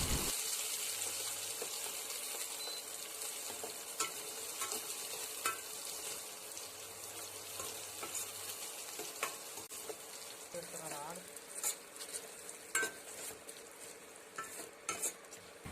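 Small chopped onions fry in a pan with a steady, close sizzle while a utensil stirs and scrapes through them, adding occasional clinks and taps toward the end; no one speaks.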